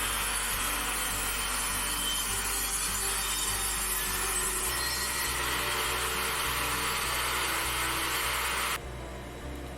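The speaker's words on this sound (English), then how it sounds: "I'm just cutting it to the height of the box" Steady rhythmic hand sawing through a wooden 2x4, a continuous rasping with repeated strokes up close, stopping near the end.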